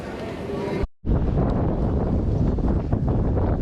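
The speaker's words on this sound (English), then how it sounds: "It's really windy" Strong wind in Lisbon buffets the microphone in a loud, roaring rush near the water, briefly cutting out, with voices faintly mixed in.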